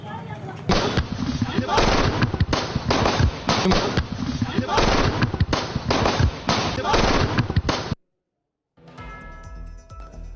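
Gunfire during a shooting captured in news footage, a rapid string of sharp cracks and bangs over several seconds, loud and close, with shouting voices mixed in, then an abrupt cut to silence and faint noise.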